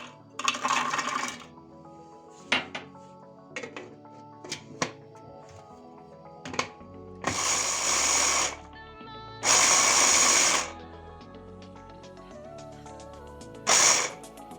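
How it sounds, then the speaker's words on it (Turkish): Walnuts being ground in a food processor for Turkish walnut tarator meze, heard as several short whirring bursts of rattling nuts between clinks and handling sounds, the last few bursts longer and louder, with no talk. "Evet cevizlerimizi rondoda çektiriyoruz."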